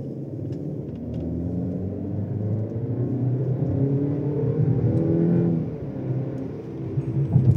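Steady engine drone of a Mercedes C-Class W206 estate while driving, a low rumbling hum that swells and revs slightly midway, with no voices.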